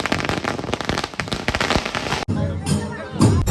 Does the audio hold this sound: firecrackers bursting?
yes